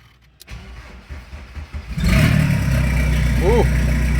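A VW Passat engine with an open header exhaust cranks briefly and catches, then settles into a loud, raw, rumbling idle close by. Someone speaks over the engine.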